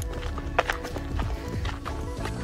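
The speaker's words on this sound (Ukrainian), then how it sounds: "у нас тут коні ще" Horses at Erfurt zoo in Germany clop on the ground in a series of uneven hoof strikes, set against steady outdoor background noise.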